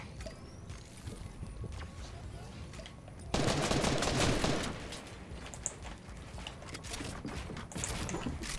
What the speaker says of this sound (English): And then now I'm getting shot in the back.